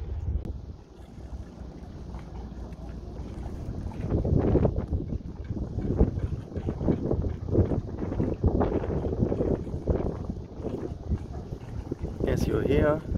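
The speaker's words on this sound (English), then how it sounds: "As you hear, there is some wind, very unusual for Cyprus." Steady wind rushing and buffeting over the microphone out on open water off Cyprus aboard a sailing boat, with someone talking over it throughout.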